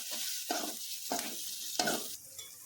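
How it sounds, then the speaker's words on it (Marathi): A spoon stirs turmeric through food frying in a pan, with several distinct scraping strokes over a steady soft sizzle, close and fairly quiet, no talking. "आता टाकते याच्यात हळद मिक्स करते आता"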